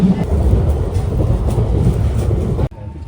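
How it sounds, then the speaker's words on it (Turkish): Inside a moving train in Paris, a loud steady rumble of wheels and carriage noise fills the space, then cuts off abruptly near the end into near silence. "trene bindik"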